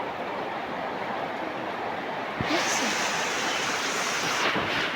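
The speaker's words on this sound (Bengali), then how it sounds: "বাইরে অনেক বৃষ্টি, তাই না?" Heavy rain falling outside, a steady broadband hiss throughout that grows louder and brighter about halfway through, with a few faint sounds in the background.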